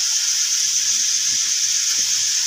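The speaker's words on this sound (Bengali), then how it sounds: "এই যে বৌমা চিলি চিকেন ভাজা হয়ে গেছে" Chili chicken frying in a pan gives off a steady, even sizzling hiss that holds at the same level from start to finish, with faint soft knocks far beneath it.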